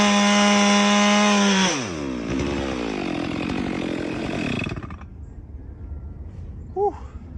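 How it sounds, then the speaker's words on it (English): A dull chainsaw revs high while cutting a white oak log, then bogs and winds down with a falling pitch as the cut finishes, leaving a quieter outdoor background with a brief chirp near the end. "while my chainsaw is super dull, I'm gonna go ahead and try to keep finishing this up"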